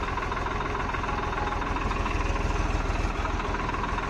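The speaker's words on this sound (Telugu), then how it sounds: "ట్రాక్టర్గా లేపుతున్నాడు పైకి." A tractor engine idles steadily with a low, rumbling knock while it lifts a load of green tobacco leaves on a village farm, continuous and close with no talk.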